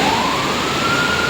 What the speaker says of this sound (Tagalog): mga ambulansya yun